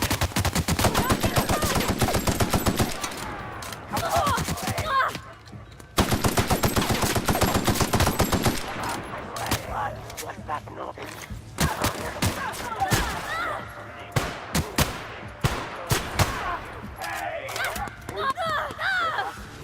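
Loud, close automatic gunfire in the sci-fi shooter The Outer Worlds comes in long rattling bursts with brief pauses, then scattered sharper shots. A voice speaks between the volleys.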